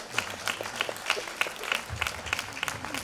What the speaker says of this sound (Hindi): अपने ताली बजाना चाहते हैं ना, बजाइए.